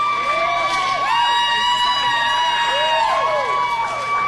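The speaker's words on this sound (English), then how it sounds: "You hear the applause?" A crowd cheers at a Class 2 District 2 girls' basketball championship game between the Alton Lady Comets and Neely, with a loud, continuous roar and shrill rising and falling whistle-like tones piercing over it.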